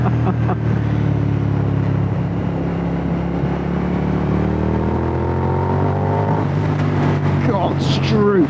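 A 2004 Suzuki SV1000 motorcycle engine pulling hard under acceleration, its steady loud drone climbing in pitch throughout, heard close with constant rushing noise.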